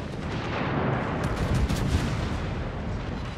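Heavy naval artillery fire from battleship guns in World of Warships, a dense rumbling roar of overlapping booms and blasts that stays loud and continuous throughout, with no voices.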